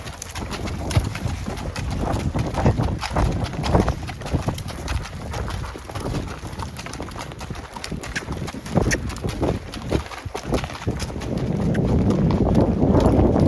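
A gaited horse's hooves canter in a quick, rhythmic beat of close thuds, continuing throughout and growing slightly louder near the end.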